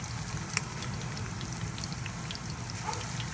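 Shrimp pan frying gives a steady, soft crackling hiss with scattered faint pops throughout, fairly quiet and even.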